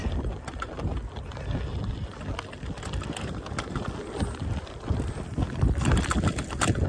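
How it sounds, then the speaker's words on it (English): Strong gusting wind buffets a microphone outdoors on a bike path in Eglinton East, a constant rumbling roar that swells louder toward the end. "If only it wasn't so windy"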